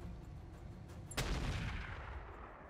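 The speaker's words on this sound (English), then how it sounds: "we're going to fire on this quick draw with direct fire sniper artillery" Direct-fire sniper artillery in the RogueTech mech game goes off as a single sharp blast about a second in, followed by a broad rumbling wash that slowly fades.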